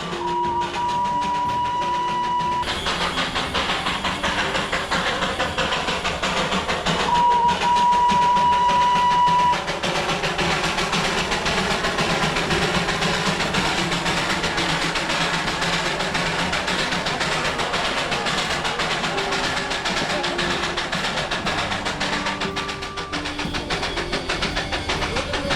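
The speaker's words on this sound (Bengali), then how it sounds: "ধোঁয়া উড়িয়ে, হুইসেল দিয়ে এই ট্রেন সব বয়সী পর্যটকদের ভীষণ আনন্দ দেয়" The Darjeeling toy train runs through the hill town with a steady rumbling, hissing chug that fills the whole stretch, and two short whistle tones come early on.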